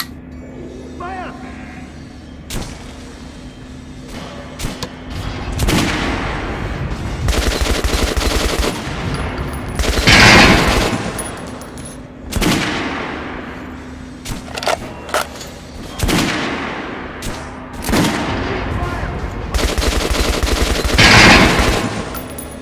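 Repeated automatic gunfire in the video game Metro: Last Light, with loud sustained bursts and sharp single cracks close by, rising and falling in waves over a low steady hum, with shouted voices between.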